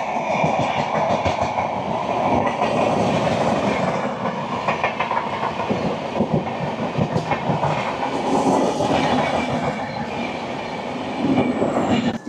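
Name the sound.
Kandari Express train with WAP4 electric locomotive passing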